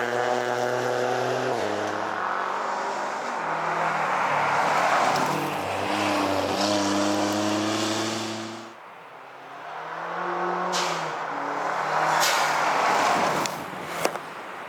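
Rally race cars come past on a stage, engines rising and falling with shifting tones as they accelerate, each one loud and near before it fades and the next pulls away through the bends.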